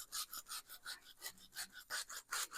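Soft rustling and rubbing by hand, a quick rhythmic scrunching of kale leaves being tossed, close and fairly quiet.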